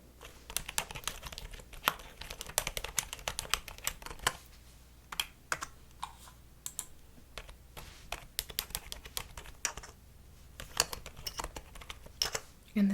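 Rapid, uneven typing on a computer keyboard, close and crisp, with short pauses between bursts and a few sharper clicks mixed in.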